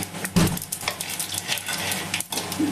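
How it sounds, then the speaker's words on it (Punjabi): Cumin seeds crackle and sizzle in hot oil in a pan, a close, continuous frying hiss with small pops and a few utensil clinks, brief and without voices. "ਜੀਰਾ ਚਟਕ ਗਿਆ ਏ ਜੀਰਾ ਚਟਕ ਗਿਆ"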